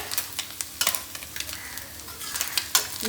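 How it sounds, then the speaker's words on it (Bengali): Amadi fish frying crisply in a pan, a constant close sizzle broken by sharp scraping clicks of a utensil turning the pieces. "এদিকে আমদি মাছটা চটপট করে ভেজে নিলাম কড়া কড়া করে"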